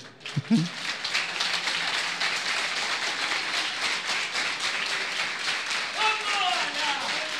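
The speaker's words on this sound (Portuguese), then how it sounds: "Aplauda o Senhor." Church congregation applauding during a service, a sustained dense round of clapping from many people, with voices briefly audible at the start and again near the end.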